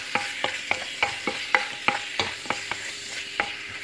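Raw scallops and meat cook in a pan with a soft background sizzle while a utensil taps and scrapes in a quick, fairly regular rhythm, a dozen or so light clicks, no talking.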